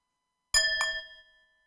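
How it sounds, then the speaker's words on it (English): A gong is struck twice in quick succession and held to damp it, giving two bright metallic hits whose ringing fades quickly within a second, close and clear. "When you do the 2 strikes, you hold the gong so it won't vibrate, and the 2 sounds can be heard."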